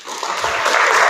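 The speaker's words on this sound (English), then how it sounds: "Give me a big, big clap." A large audience at a London gathering claps loudly on cue, a thick, close roar of many hands that swells and holds steady for a brief moment.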